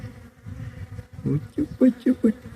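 A swarm of honeybees buzzing close by, a low droning hum that swells into several loud pulsing bursts near the end, with no speech.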